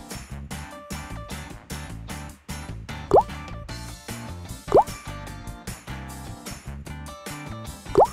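Cartoon mud plops three times in a mud pit in a children's ocean video game, each a quick rising bloop over upbeat background music.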